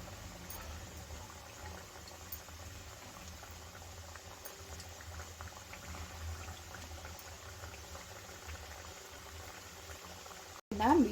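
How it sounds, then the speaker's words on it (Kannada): Wheat flour biscuits deep frying in hot oil, a continuous soft bubbling sizzle held at a steady low level throughout, with a brief louder clatter at the very end. "ಬಿಸ್ಕೆಟ್ನ ಒಂದೊಂದೇ ಎಣ್ಣೆಲಿ ಹಾಕಿ ಗೋಲ್ಡನ್ ಬ್ರೌನ್ ಬರೋವರೆಗೂ ಫ್ರೈ ಮಾಡಿ ತಗೋಬೇಕಾಗತ್ತೆ"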